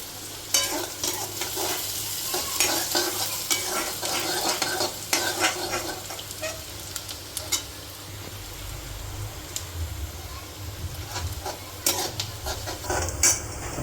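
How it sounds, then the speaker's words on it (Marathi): Garlic, ginger and finely chopped green chilli sautéing in a pan for soybean chilli, a constant close sizzle with frequent scraping stirs and light clinks of a spoon, no voices. "लसूण टाकला, अद्रक, लसूण आणि बारीक चिरलेली हिरवी मिरची आपली. आता यांना व्यवस्थित आपण परतून घेऊया."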